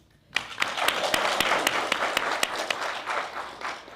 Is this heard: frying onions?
no